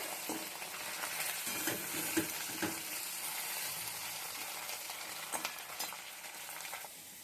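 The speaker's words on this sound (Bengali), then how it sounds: "মাছের মাথাটি আগে একটু না ভাজলে ভালো লাগে না" A hilsa fish head fries in a pan with a continuous moderate sizzle, dotted with occasional spatula scrapes and taps.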